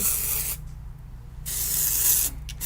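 Aerosol product sprayed onto a new synthetic wig in two long, steady hissing bursts with a short pause between, close and fairly loud, followed by a brief third puff; no voices.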